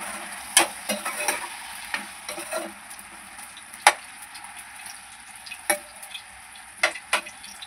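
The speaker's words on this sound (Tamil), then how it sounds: "அப்படியே சிம்மில் வச்சு வறுக்க வேண்டியது தான்" Raw plantain (vazhakkai) slices frying in a pan on a low flame, a steady close sizzle and crackle with sharp spatters popping through it now and then, and no voices.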